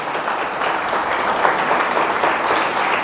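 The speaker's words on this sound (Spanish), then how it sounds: "Dele fuerte el aplauso a nuestro Dios." A church congregation claps together in a dense, steady applause, loud and close, continuing without a break.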